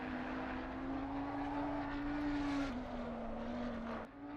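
A race car at Spa-Francorchamps in Assetto Corsa Competizione holds a steady engine drone, then the pitch drops with a downshift and a short clunk under heavy braking into a chicane, loud and close with no talk.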